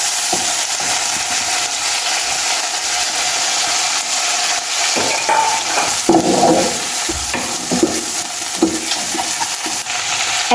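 Chopped liver pieces frying in a pan for a shingara filling, with a steady hiss of sizzling oil and irregular scraping and knocking as a spoon stirs the pieces, close and loud.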